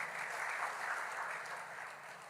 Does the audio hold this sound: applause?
yes